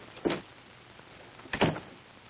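An office door in a 1949 film opens and shuts, two separate thuds about a second and a half apart, moderately close in a quiet room with no talking.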